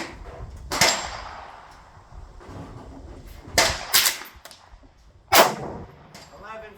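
Gunshots at an outdoor shooting range, cast bullets fired at a target: several sharp, loud reports spaced a second or two apart, each followed by a short echoing tail, with quieter background between shots.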